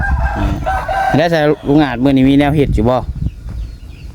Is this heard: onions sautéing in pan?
no